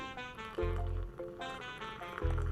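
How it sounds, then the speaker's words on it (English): Matcha being poured over coconut milk for a mango matcha latte: a close, steady liquid pour in two or three bursts, with gurgling splashes as it lands on the milk. "pour it on top of the coconut milk."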